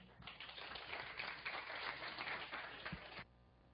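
An audience at an enterprise big data talk gives a short round of applause, a soft, fairly distant patter of clapping that runs about three seconds and then stops abruptly.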